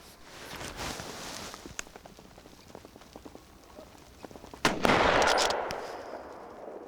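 A single loud rifle shot from a boar hunt in Hungary cracks out sharply and trails off in a rolling echo, preceded by quiet outdoor rustling and faint clicks.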